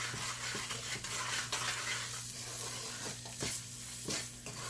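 A soft, quiet sizzle in a pan as ginger, cardamom powder and raisins are stirred together, with gentle scraping strokes at an irregular pace and a faint background hum.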